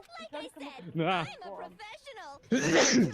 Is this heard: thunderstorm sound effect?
no